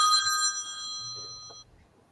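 A phone rings with an electronic tone during a stock market talk show. The clear repeating ringtone sounds near, then cuts off abruptly, leaving a quiet room.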